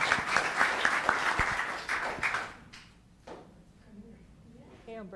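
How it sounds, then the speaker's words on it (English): Applause at a town council meeting: a few seconds of lively clapping from the room with some sharp individual claps, which dies away midway into quieter room sound and faint voices. "Round of applause."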